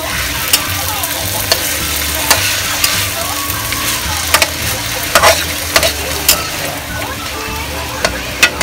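Chicken pieces for tinolang manok are stirred in a pot, with steady sizzling and scraping spoon clatter in irregular bursts, close and fairly loud, with no talk.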